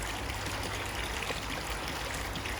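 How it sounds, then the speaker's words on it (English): Water gushing from a new 20,000-litre Evolution Aqua pond pump, a dense continuous rushing and splashing flow that stays steady and loud throughout. "As you can see, the water coming out, it's incredible."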